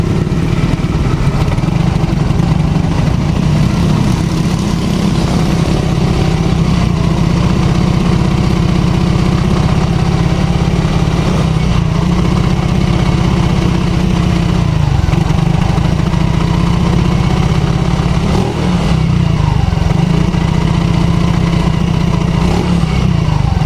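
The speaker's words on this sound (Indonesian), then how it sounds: "suara mesinnya saat kita naikkan RPM sedikit" A Yamaha X-Ride motorcycle engine with a sputtering fault runs with its RPM raised. It gives a loud, steady, rough drone that holds without letup for the whole stretch, with no talk.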